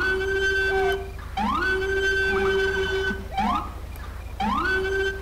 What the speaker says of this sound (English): As you can hear, it's a pretty awesome siren.